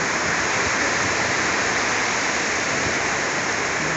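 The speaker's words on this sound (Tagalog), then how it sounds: "Lakas ng ulan." Heavy rain pours down in a dense, steady roar at a market in Lipa City, holding at the same loudness throughout, with no voices.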